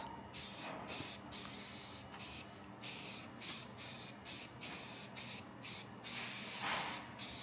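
Aerosol spray paint hissing onto custom speaker mounts for a 1949 GMC roadster, about a dozen short, steady bursts in a regular rhythm, close and fairly quiet, with no talking.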